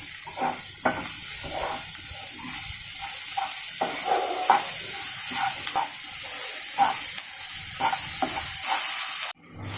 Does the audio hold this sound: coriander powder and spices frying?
yes